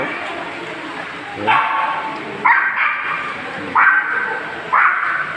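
Several dogs bark repeatedly in short bursts over a steady noisy background, fairly close, with sharp yips standing out about every second or so.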